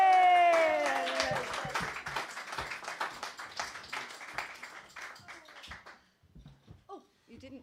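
Audience clapping for a performer arriving on stage, heard as a mix of scattered claps under a voice speaking over the start, thinning out and fading to a few isolated claps by the end.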